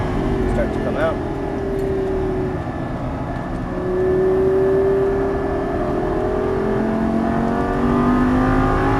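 A Lamborghini Gallardo LP550-2 on a racetrack, engine droning loud and close from inside the cabin as it brakes and downshifts, pitch sliding and shifting, while people talk over it.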